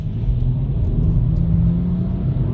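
A BMW 435i M Sport with an 8-speed automatic drives through heavy snow, its engine a steady, loud low rumble and whir heard from inside the cabin.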